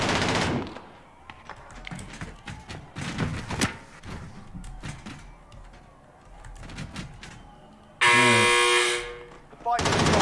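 Automatic gunfire during a Call of Duty Warzone fight: loud rapid bursts of shots scattered across the scene, with a harsh buzzing alarm-like tone cutting in near the end.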